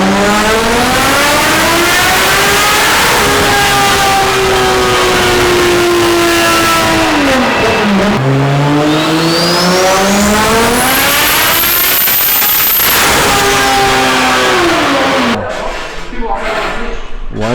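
A 1000 HP BMW E36 engine revs hard at higher boost, loud and close, its pitch climbing and falling through repeated sweeps with a sharp high whine near the end before cutting off.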